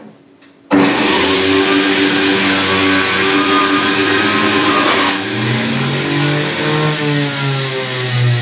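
Philips HR1874 1000-watt juicer switched on and juicing carrots: after a short quiet moment the motor starts abruptly into a loud, steady whine and grinding hum with shifting pitch as the carrots feed through, close and alone.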